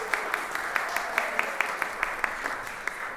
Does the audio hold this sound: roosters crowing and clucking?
no